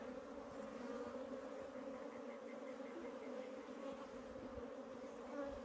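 Africanized honey bees drone steadily at an opened water meter hive, a continuous close buzzing swarm without pause.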